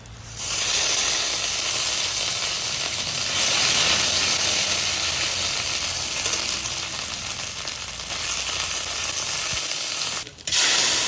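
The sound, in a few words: panch phoron spice tempering frying in oil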